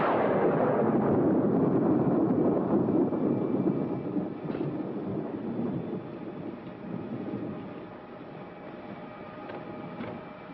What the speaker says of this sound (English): another stormy weekend.